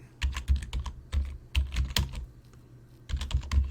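Someone types in bursts on a computer keyboard, close and clear, with rapid clusters of key clicks separated by short pauses.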